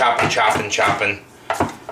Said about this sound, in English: Okay, and then I'm just going to keep chopping it.